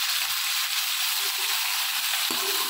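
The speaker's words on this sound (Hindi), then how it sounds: "अब इसके अंदर हम गोभी डाल देंगे और गोभी को अच्छी तरह से घी में फ्राई कर लेंगे।" Cauliflower pieces frying in hot ghee give a steady, close, broadband sizzle with no pauses, and a brief stir or clatter lands near the end.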